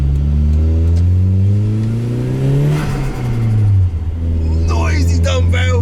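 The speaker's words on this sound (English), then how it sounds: "Noisy dump valve." Turbo dump valve on a tuned, turbocharged older Suzuki Vitara, engine droning and revving loudly before a sharp whooshing release, then the rumble settling while driving on.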